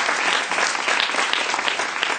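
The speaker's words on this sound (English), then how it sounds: "And applause for Greta." Brief burst of audience applause for a young climate activist at a talk event, dense and even clapping across the whole moment.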